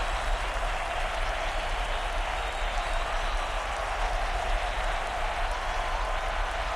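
A crowd at a football game cheers and claps in a dense, steady roar that holds unbroken the whole time.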